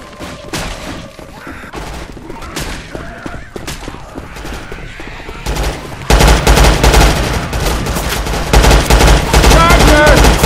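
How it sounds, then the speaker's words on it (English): Dense, loud automatic gunfire in Left 4 Dead 2, rapid bursts that intensify into a continuous barrage in the second half, with game ambience and faint voices underneath. "I'm gonna shoot the shit out of it"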